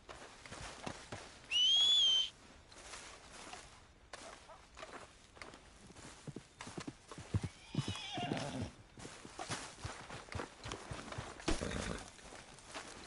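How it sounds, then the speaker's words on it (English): Horse in Red Dead Redemption 2 letting out a loud, high whinny early on, followed by steady clip-clop of hooves and occasional footsteps and rustling, close and clear with no talk over it. "We'll need a horse."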